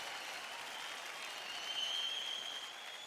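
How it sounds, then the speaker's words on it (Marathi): Faint, distant applause from a studio audience on a televised dance competition show, cheering a duo of dancers; a steady wash of clapping with a thin high tone running through it. "या दोघींसाठी जोरदार टाळ्या होऊन जाऊ दे एकदा"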